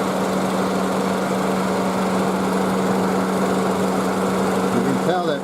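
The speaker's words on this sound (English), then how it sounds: "Honda Civic from underneath. Pretty big vibration." Honda Civic engine heard from underneath while running with a broken engine mount and the exhaust resting on the frame, giving a loud, steady vibrating drone and buzz throughout with a brief squeak near the end.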